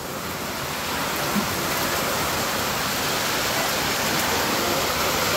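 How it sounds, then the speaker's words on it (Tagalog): Heavy rain pours steadily outside a house, a dense, even broadband hiss at constant loudness throughout, with no voices. "Sumalubong ang malakas na buhos ng ulan."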